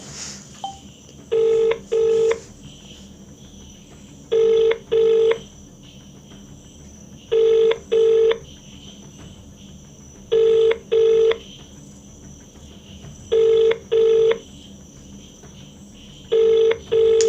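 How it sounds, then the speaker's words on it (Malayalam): Repeated pairs of electronic ringback tones sound at regular intervals over a steady high whine and faint background hum; the phone call to an official keeps ringing unanswered. "ഞാൻ ഫോൺ വിളിച്ച് നോക്കിയോ, ഇപ്പം നോക്കിയോ, എടുക്കുമെന്നറിയാം."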